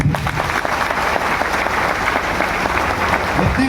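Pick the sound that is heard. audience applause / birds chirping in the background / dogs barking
audience applause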